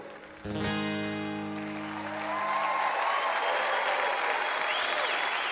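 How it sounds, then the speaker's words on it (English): Grand Ole Opry audience bursts into loud, sustained applause and cheering after a musical ending fades, the crowd noise swelling and staying dense throughout. "it's good to hear applause and happiness"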